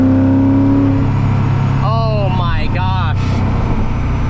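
A supercharged Koenigsegg CCX engine growls low and steady at about one-tenth throttle, a deep continuous rumble, while someone speaks briefly over it.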